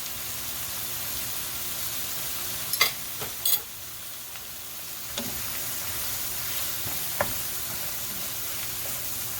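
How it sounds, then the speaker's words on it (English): Flour is stirred into a gently sizzling pan to make a roux for beef stroganoff, with a soft, steady hiss and a few sharp utensil clicks and scrapes against the pan. "And we're going to add in flour, just under a tablespoon again."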